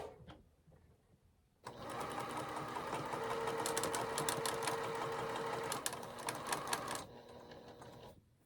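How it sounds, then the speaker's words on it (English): A sewing machine runs a straight seam for about five seconds, a steady close mechanical whir with rapid needle ticking, then slows and stops, with a few soft clicks after. "I started sewing"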